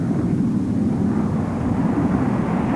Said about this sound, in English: The point of the spear, the F-15 Eagle, the match of any fighter in the air.